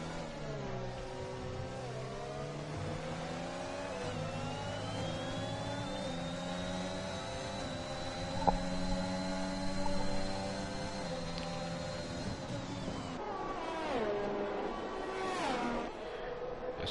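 Formula 1 car engines in F1 2021 at the Mexican Grand Prix whine continuously, rising in pitch through gear changes with other cars audible nearby, a steady close roar with no speech.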